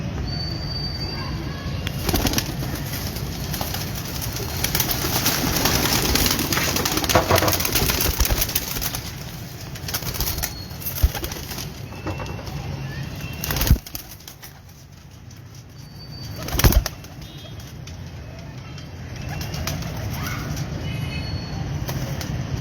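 Soft cooing of Ferozpuri pigeons sits under a steady rumbling background, with a couple of louder thumps or flutters breaking through.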